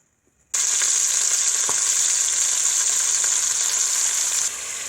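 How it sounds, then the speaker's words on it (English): Chicken liver drops into hot natural coconut oil with garlic in rural Jamaica and sizzles loudly at once, a dense, steady frying hiss close up that continues for several seconds before easing slightly. "Gonna drop my liver now."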